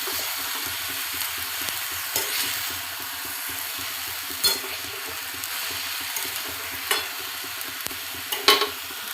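Coconut, potatoes and chickpeas frying in a pan for a Bengali banana-flower dish, a soft continuous sizzle broken by a few sharp scrapes and knocks of stirring, close but fairly quiet.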